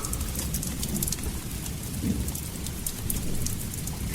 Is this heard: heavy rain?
yes